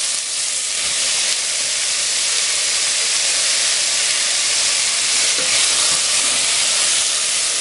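Green pepper sizzling in a pan over medium heat, a steady, even hiss of frying that holds at a constant level throughout with no talking.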